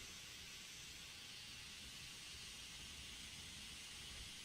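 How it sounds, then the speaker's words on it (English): Steam vents from a locomotive in the Derail Valley train simulator, a steady, dense hiss held unbroken at even loudness from start to finish, with no voices over it. "We need to dump off some of the steam because it's building up."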